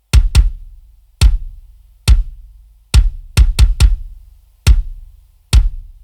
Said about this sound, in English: So the kick sounds like this.